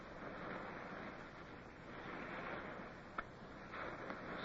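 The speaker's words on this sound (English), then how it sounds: "then we heard the swell of the surf" Ocean surf swelling onto the beach at Scotchman's Bay, heard from small boats rowing in: a soft, continuous wash of waves with gentle wind, quiet and distant, and one brief splash near the end.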